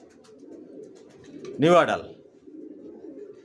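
Young racer pigeons murmur a soft, continuous coo in the background, broken midway by a short burst of a nearby human voice.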